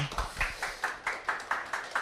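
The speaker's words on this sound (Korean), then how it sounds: "다시 한번 강사분들께 박수 한번 부탁드리도록 하겠습니다" A small audience at an accounting exam prep information session claps in an even rhythm, around eight distinct beats, moderately loud and close, with no talking.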